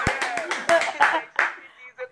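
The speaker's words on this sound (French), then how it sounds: "Applaudissez pour Tatana." A handful of sharp, separate claps for a woman named Tatana, sounding like one or two people clapping close by during a livestream, with a voice talking over them.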